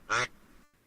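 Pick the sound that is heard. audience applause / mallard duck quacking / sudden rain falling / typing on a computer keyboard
mallard duck quacking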